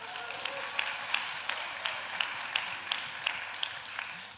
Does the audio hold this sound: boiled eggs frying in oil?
no